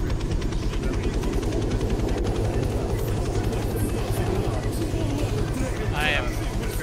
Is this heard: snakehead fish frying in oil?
no